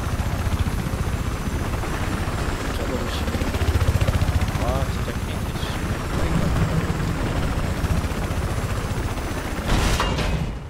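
Helicopter rotor and engine roar during online Battlefield 4 play, a loud, continuous thrumming wash mixed with game noise, with scattered bursts and a sharp crack near the end.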